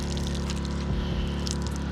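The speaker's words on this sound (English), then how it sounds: "what I'm gonna do is just wring it out" Water being wrung from a wet towel used for drying a car, a soft, continuous trickle and splash of dripping liquid lasting a couple of seconds, fairly faint and close.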